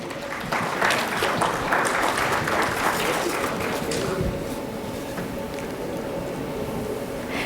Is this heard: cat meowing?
no